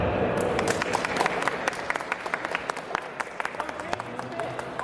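Audience clapping during a live comedy-style crowd vote on a Dragon Ball Z matchup, scattered claps in an uneven patter of moderate loudness, mixed with a few voices calling out in the room.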